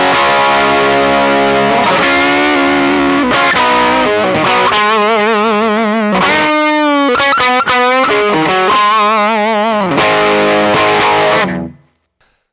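Loud, crisp overdriven electric guitar through a Sencha Drive pedal into a cranked amp, chords and single-note bends ringing with sustained distortion, then cut off abruptly near the end.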